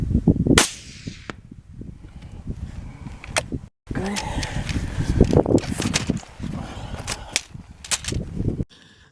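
A single sharp rifle shot goes off outdoors in the Karoo bush during a ram hunt near Beaufort West, followed by rustling movement and brief handling noises.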